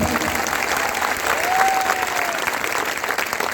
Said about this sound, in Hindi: यशस्वी मुख्यमंत्री माननीय भूपेश बघेल जी की जोरदार ताली से